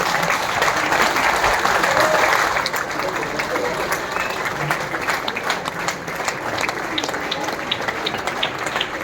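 Sustained applause from an audience at a legal company speech event, with broadband clapping filling the whole stretch, loudest early on and then holding steady with scattered sharper claps near the end.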